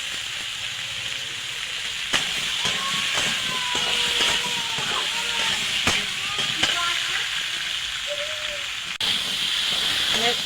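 Spice paste with salt and turmeric sizzling and frying in a pan for a raw tomato curry with fish, a steady hiss with occasional scrapes and clicks, with some voice-like sound in the background.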